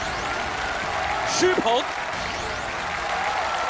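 A studio audience at a televised talent competition applauds steadily as the judges are introduced, producing a broad, even wash of clapping beneath a host's voice calling out names.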